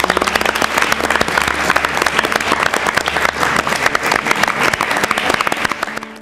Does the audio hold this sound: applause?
yes